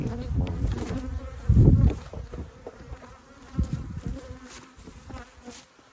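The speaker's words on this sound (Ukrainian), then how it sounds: "Вже бачите, льотна бджола збирається." Honey bees drone and buzz around a hive with a drone-laying colony, a steady swarm hum with one loud bee passing close by.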